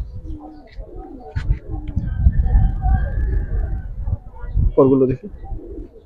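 Giribaz pigeons coo in soft, low repeated bursts while being handled close by, one louder throaty coo near the end, with someone talking over them throughout.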